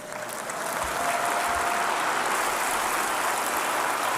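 A crowd breaks into dense, sustained applause that swells within the first half second and then holds steady and loud.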